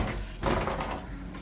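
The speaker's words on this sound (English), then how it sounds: "Opens the doors." Balcony doors of a hotel room in Malgrat de Mar, Spain, swing open with a soft wooden clunk and brief rattle, fairly close, no voices.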